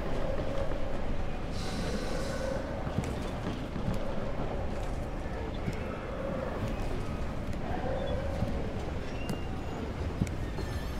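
A train in the Darq video game rumbles in a dense, steady roar with faint rhythmic pulses recurring about every two seconds.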